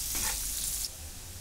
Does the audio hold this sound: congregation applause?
no